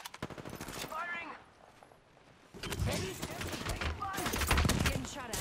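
Gunfire rattles in Apex Legends, with rapid automatic bursts near and loud, and a short quieter gap before heavier firing returns. Voices talk over the shots.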